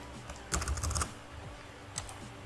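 Quick bursts of computer keyboard typing, a rapid flurry of keystrokes followed by a few isolated taps, close and fairly quiet, with no talking.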